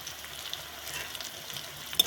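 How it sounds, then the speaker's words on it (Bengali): Spices with salt, Kashmiri chili powder and hot chili powder fry in a pan for Bengali mutton kosha, giving a soft, steady close-up hiss with a small sharper crackle near the end. "এরপর ভালোভাবে সব কষিয়ে নিতে হবে"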